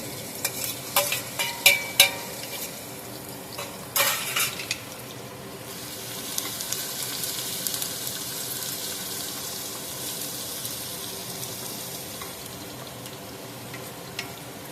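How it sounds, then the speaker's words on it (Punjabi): Garlic and ginger hit hot oil in a pan for a Punjabi spinach chicken curry, crackling and sizzling loudly at first with spoon stirring clatter, then settling into a softer continuous fry with occasional scrapes. "ਲਸਣ ਤੇ ਅਦਰਕ ਦੋਨੋਂ ਇਕੱਠੇ ਪਾਵਾਂਗੇ"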